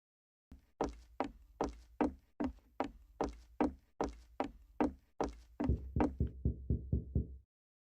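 In a horror video game, a long run of sharp, hollow knocks on a door beats out a fast, steady rhythm, with the last few strikes quieter before it falls silent.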